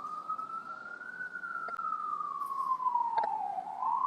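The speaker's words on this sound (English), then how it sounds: "I hear the sirens" A police siren wails in the distance, its pitch slowly rising and falling in a long, steady sweep.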